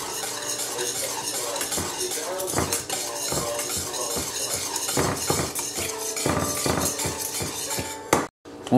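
Utensil stirring homemade dish soap made with washing soda crystals in a container, a steady run of scraping and clinking strokes close by, with a sharp clack and brief pause near the end, no talk.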